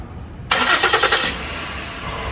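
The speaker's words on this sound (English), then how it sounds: "Start the engine." An engine cranks and catches abruptly, a loud burst with rapid pulsing for under a second, then settles into a steady idle hum.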